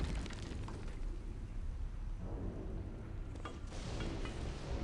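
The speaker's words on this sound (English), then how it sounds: "And they're throwing grenades." Grenade explosions in the game Return to Castle Wolfenstein: a dense, loud rumbling blast with a roaring tail and a second burst near the end, no speech.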